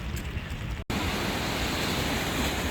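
Rain and high sea waves at Haeundae beach in Busan make a steady, dense wash of noise with a brief dropout early on, then a continuous loud roar.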